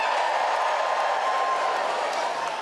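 Television talent show audience of people over 40 cheering in a large venue, a sustained broad wash of crowd noise heard from a distance, steady and unbroken.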